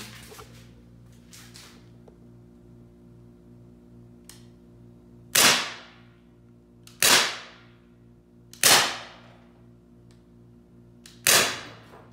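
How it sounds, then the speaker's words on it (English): Pellet gun fired at random household items: four sharp, loud cracks spaced a second or two apart, each with a short fading tail, against a quiet background. "It's also super hard to aim with our pellets."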